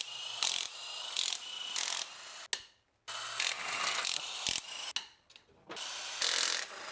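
A ratchet on a wobble extension removes 17mm bolts, giving bursts of rapid close clicking separated by short pauses, with a few soft scrapes and knocks between spins.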